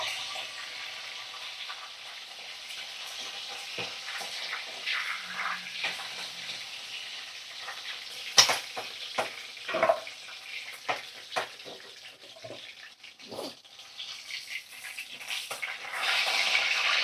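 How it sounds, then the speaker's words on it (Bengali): Chicken pieces fry in oil seasoned with salt and turmeric, giving a soft, irregular sizzle with scattered pops and stirring clatter close by, and no speech. "এইভাবে দেখো সমস্ত চিকেন আমি তেলের মধ্যে দিয়ে ভাজা ভাজা করে নেব।"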